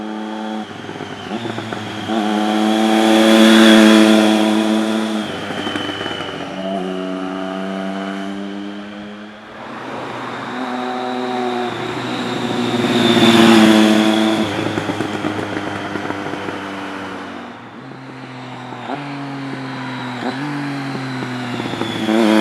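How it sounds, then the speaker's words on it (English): A 2013 Triumph Street Triple R motorcycle's exhaust rises and falls through two long revving sweeps, climbing to a loud howl and easing back, with a final shorter blip, heard close with no talking. "One of my favourite things about this bike, the exhaust."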